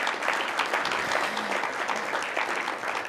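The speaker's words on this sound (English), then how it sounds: "Give him a big round of applause." Dense, steady audience applause at a business improvement district annual meeting for a council member, loud and even from start to finish with no voices.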